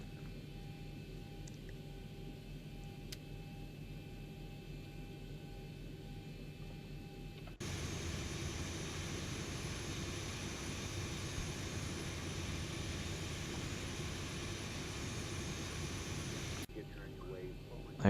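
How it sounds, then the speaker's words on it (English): Boeing 737-800NG jet engine spooling up in a flight simulator, a steady broadband roar that jumps sharply louder partway through and holds, then drops back to a quieter cabin hum near the end. "We're going to wait for the second engine."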